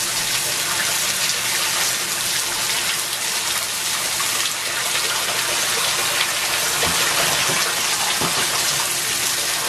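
Water gushes steadily and loudly from a tap into a bathtub, a continuous close splashing rush filling the whole stretch, with faint voices briefly underneath.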